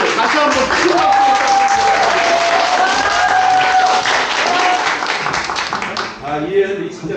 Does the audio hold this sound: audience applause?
yes